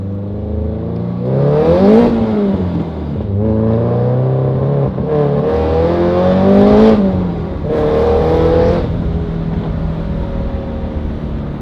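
Toyota TRD 86 being driven on a closed course, its engine revving up and easing off in repeated rising sweeps, loud and close with no voices.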